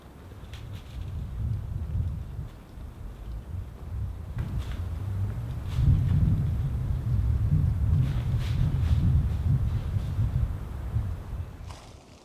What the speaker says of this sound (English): And our friend the wind is back.